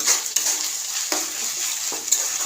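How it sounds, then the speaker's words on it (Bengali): Tomato sauce fries in a pan with a bright, steady sizzle, broken by a few sharp scrapes and clinks of a spoon stirring against the pan, close and clear with no talk. "এটা একটু ভাজি"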